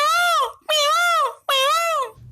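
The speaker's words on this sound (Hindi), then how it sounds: "एक बार फिर से सुनिए पिकॉक की आवाज" Three loud, drawn-out peacock wails with a bright, rising-then-falling harmonic tone, each lasting about half a second, separated by short gaps and heard up close with no talking.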